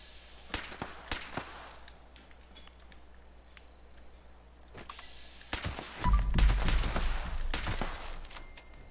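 10mm pistol fire in Fallout 76, sharp shots in quick bursts spread across the stretch, moderately loud against a low ambient background, followed by a heavier rumbling burst near the end.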